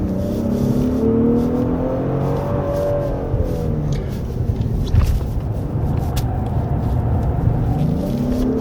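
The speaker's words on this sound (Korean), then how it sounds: "코너에서 타이어가 지금 스키름을 낼 때 네, 앞뒤 타이어가 다 소리를 내는 것 같습니다." A 2024 Genesis G90 E-Supercharged AWD sedan corners hard on a winding mountain road, its front and rear tires squealing in rising and falling tones over steady engine and road roar, heard from inside the cabin.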